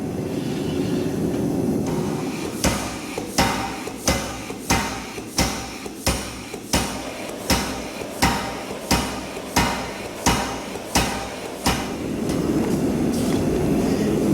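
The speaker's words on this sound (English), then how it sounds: "feed my material in and turn it as I hammer, thus forming a 1/4 inch tenon" A blacksmith hammers steel bar stock, turning it while drawing a 1/4 inch tenon for a garden gate: about a dozen sharp, evenly spaced ringing blows over steady background roar, with no talk.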